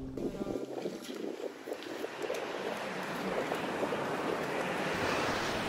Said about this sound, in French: Et puis soudainement le vent se lève